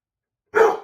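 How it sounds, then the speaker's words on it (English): A pet dog lets out a single short, sharp bark after half a second of silence, close and fairly loud, with no talking. "And by the way, this is my dog, Pepper."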